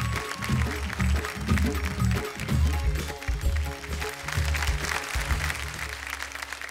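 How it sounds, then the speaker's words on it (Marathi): Audience applause at a televised kirtan competition greets kirtankar Haribhakti Parayan Laxman Maharaj Latpate, steady clapping running the full length over loud stage music with a low rhythmic beat. "जोरदार टाळ्या झाल्या पाहिजेत त्यांच्यासाठी"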